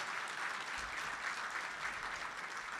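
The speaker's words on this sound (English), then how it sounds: "Let's give them a huge round of applause" Steady applause from a crowd, a dense wash of clapping held at an even level throughout, somewhat distant.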